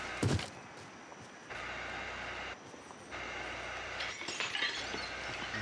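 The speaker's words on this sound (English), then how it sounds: "Broke glass." Glass shatters in a video game as a sharp, bright crash right at the start. Steady rumbling game ambience with shifting texture follows, and a few smaller clatters come near the end.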